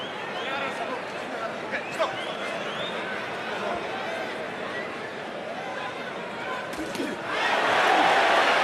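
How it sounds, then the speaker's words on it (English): A boxing crowd murmurs under steady commentary during a 91 kg bout, then swells into a loud cheer near the end. "the crowd there gets something to cheer about"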